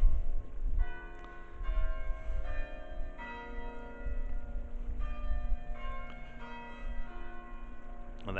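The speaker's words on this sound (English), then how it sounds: "So there we are, yes, the bells." Church bells of St Margaret's in Wrenbury, Cheshire, ringing a continuous overlapping peal of several bells for about eight seconds, heard at a moderate distance with no talking.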